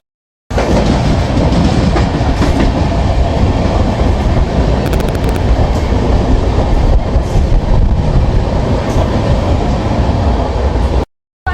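A passenger train on the Durgapur to Puri route rumbles loudly and continuously on its rails from inside a carriage, with a heavy low roar and faint rhythmic clatter from start to finish.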